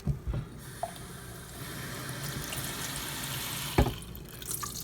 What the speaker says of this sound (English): Refill it with water.